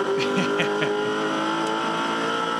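Dodge Charger touring car launching off the start at Hidden Valley Raceway in a Touring Car Masters race, a loud, steady engine roar close by with a brief tyre squeal.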